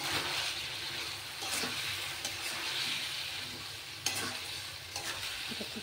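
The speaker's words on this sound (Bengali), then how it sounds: "এবার এই মাংসটা এর মধ্যে ঢেলে দিচ্ছি।" Marinated chicken stir-cooking in a pan for a dahi chicken dish, with a steady sizzle and frying hiss under repeated scraping stirs and occasional clinks, fairly close and continuous.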